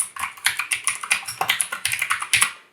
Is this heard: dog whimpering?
no